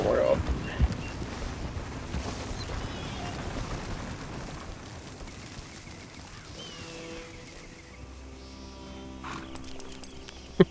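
Horse snorting and hooves shuffling amid rustling ambience in the video game Red Dead Redemption 2, with brief speech and clattering effects near the end.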